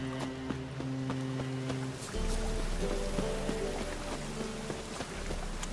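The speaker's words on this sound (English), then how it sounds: "And it's raining again." Rain patters steadily in The Witcher 3 over a low ambient hum, with scattered sharper drips and taps and a shift in the background drone partway through.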